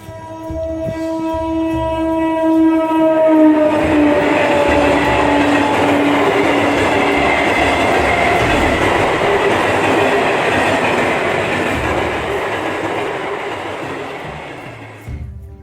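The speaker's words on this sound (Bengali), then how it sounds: "সামনে দিয়ে রাতের শেষ লোকাল ট্রেন বেরিয়ে গেল" A local train approaches at night with a horn-like tone, then roars past loudly with rumbling wheels and rattling carriages before fading away.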